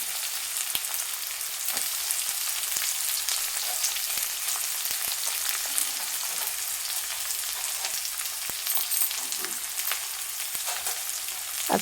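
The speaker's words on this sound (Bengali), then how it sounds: "জিরা আর পেঁয়াজটা একদম লাল করে আমি ভেজে নেব।" Cumin and onion fry in hot oil until browned, giving a steady, close sizzle with small crackles and pops throughout and no talking.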